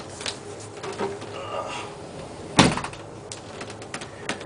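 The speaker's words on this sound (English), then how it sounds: "Let me just close this door." A door shuts indoors with one firm, fairly close thud, set against faint room noise with scattered small knocks around it.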